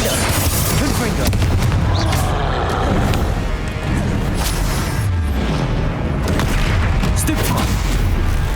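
Repeated Confringo fire-spell blasts burst in a Hogwarts Legacy battle, loud booming explosions layered over constant rumbling combat noise, with shouted spell incantations between them.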